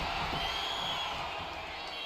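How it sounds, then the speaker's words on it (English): A virtual arena crowd in the WWE 2K25 wrestling game cheers during a triple-threat women's match, a dense continuous roar with scattered whoops, while a commentator talks over it. "The WWE Universe is showing their appreciation for the action they've seen."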